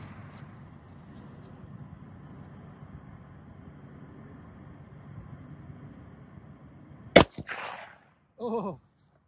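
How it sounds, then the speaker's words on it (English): .357 revolver fired at the top of a cheap body armor vest: a single sharp, loud gunshot crack with a brief ringing tail, following a long stretch of low outdoor rumble, then a short exclamation. "G2 is going to shoot the 357. Going for the top of the vest."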